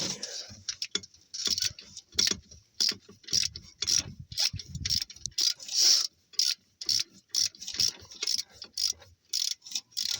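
Rapid ratcheting clicks from a torque wrench working on the alternator of a 2001 Suzuki Grand Vitara 2.5 V6, coming in repeated short bursts with brief pauses, close and fairly loud.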